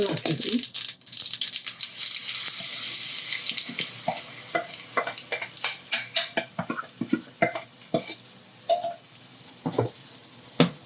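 Sesame seeds sizzle in hot oil tempering for a bottle gourd handvo, with steady frying hiss and repeated scraping, rattling stirs of a pan nearby.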